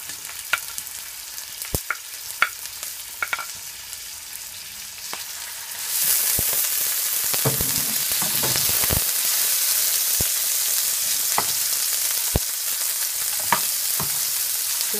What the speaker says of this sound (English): Just allow it to saute for about a minute.